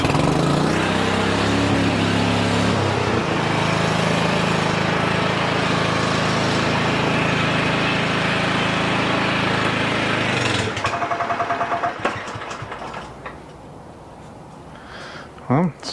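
A cold Honda walk-behind lawn mower engine fires and runs loud and close with a steady, rough drone for about eleven seconds, then cuts out and sputters to a stop, leaving a few faint clicks.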